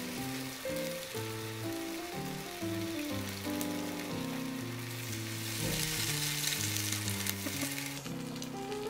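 Takoyaki batter frying in hot oil, a steady close sizzle and crackle that persists throughout, with music playing underneath.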